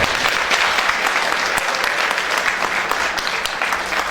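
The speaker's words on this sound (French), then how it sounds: "Je demanderai de les applaudir d'abord très fort." Loud, dense applause from an audience at a political party meeting in Paris, steady and continuous for the whole stretch with no voices standing out.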